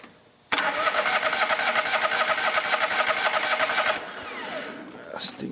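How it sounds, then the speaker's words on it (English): A tractor's small engine cranks over during an electrical voltage drop test, the starter churning in a fast, steady rhythmic chug for about three and a half seconds, loud and close, then cutting off into quiet with a faint clatter at the end. "I'm now going to turn over the tractor and see what kind of voltage drop we get"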